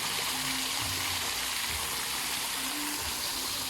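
A small waterfall pours from a shell sculpture, making a steady, hissing rush of falling water with a faint low hum beneath it, constant throughout.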